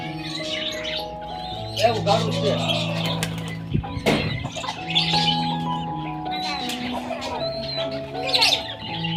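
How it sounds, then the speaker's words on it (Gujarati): Pigeons coo and flutter nearby among other chirping birds at a home bird enclosure in Gadhada, Gujarat, while a person talks over the sounds and a brief thump is heard. "અને જો આ કબૂતર"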